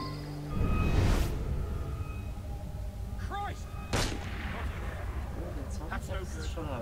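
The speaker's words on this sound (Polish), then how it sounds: "Co tak strzelają?" Gunfire booms in Assassin's Creed Unity, with a heavy blast near the start and another sharp report a few seconds later over a low rumbling game backdrop. People talk in Polish over it.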